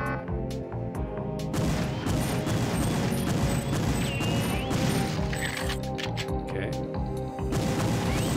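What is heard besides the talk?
sniper rifle shots in video game Perfect Dark (N64)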